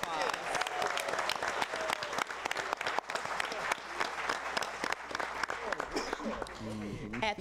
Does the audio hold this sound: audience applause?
yes